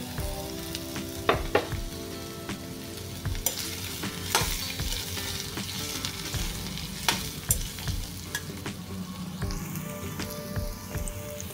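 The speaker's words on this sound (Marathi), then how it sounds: "आता मी ह्या कैरीच्या फोडी त्यामध्ये मिक्स करते।" Raw mango pieces for a sweet-sour launji are tossed and stir-fried in a hot pan, with a steady close sizzle and scattered sharp clinks of a spatula against the metal throughout.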